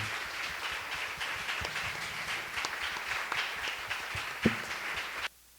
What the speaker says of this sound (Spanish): ¿Por qué no le damos un aplauso a nuestro Señor?